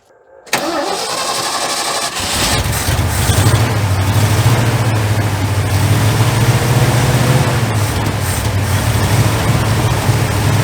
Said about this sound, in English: let's see if it'll fire up now